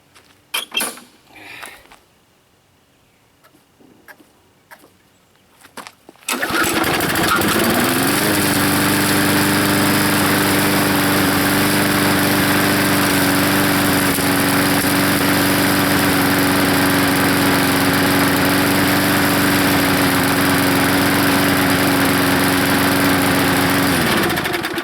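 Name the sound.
petrol lawn mower running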